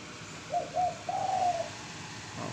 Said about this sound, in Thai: ฟังเสียงนกไปพร้อมครับ